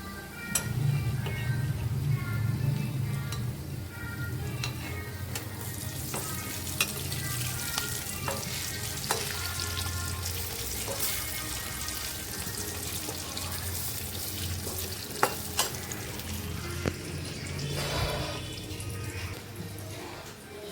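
Moong dal pakodas fry in hot oil with a steady, dense sizzle and crackle, occasional sharp pops and faint clinks of stirring, continuous and close throughout.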